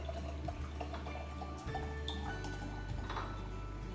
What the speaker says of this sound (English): and then the other half we're going to use sparkling water.